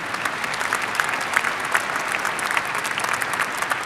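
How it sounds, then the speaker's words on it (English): Audience applause at a summer/fall commencement ceremony for distinguished alumni, a thick, continuous patter of many hands clapping at an even, sustained level with no voices on top. "Let's give them a round of applause, too."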